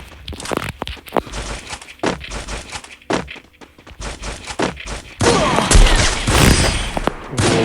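Rapid bursts of gunfire and thudding impacts from a shooter video game, with a sniper in play, crackling in dense clusters and turning into a sustained loud barrage near the end.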